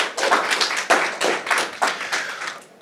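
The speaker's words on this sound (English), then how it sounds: "round of applause for my panelists" Applause from an event audience for a panel of AI company guests, a brief patter of many hands clapping at close range that builds quickly and then tapers off.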